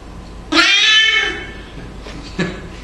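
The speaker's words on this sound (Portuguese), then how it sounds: "Esse é um gato gravado." A recorded cat gives one loud, drawn-out meow that fades away, then a shorter, softer meow follows a moment later. Both calls are close and clear against a quiet background.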